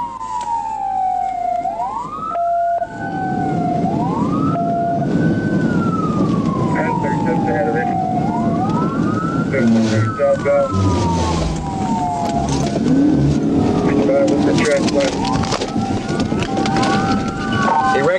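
A police siren wails in repeating rising and falling sweeps over engine and road noise during a high-speed motorcycle chase, with a voice speaking over it.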